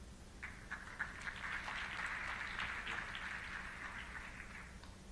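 An audience claps steadily for several seconds after a youth pitch presentation in a Dragons' Den session, a dense, even patter of many hands at moderate distance with no talking.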